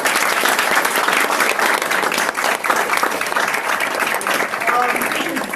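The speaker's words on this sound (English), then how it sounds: "Well, one more round of applause." Loud, sustained applause fills a town mayor and council meeting room, dense clapping from the gathered audience with some voices and chatter mixed in.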